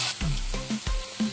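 Ginger garlic paste, two tablespoons, fries with browned onions in a pot for chicken curry. A steady close sizzle carries soft, recurring scrape-like pulses, with no talking.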